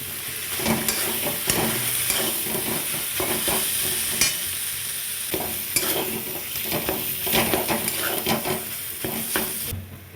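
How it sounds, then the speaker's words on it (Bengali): Boiled potato with spices being stirred in a hot frying pan: a continuous oily sizzle and hiss under repeated scraping and clinking of a spoon against the pan, close and fairly loud, with no talking. "মশলার সাথে আলু খুব ভালো করে মিশিয়ে নিয়েছি"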